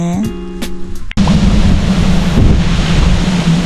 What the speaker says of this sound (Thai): ให้ฟังเสียงลม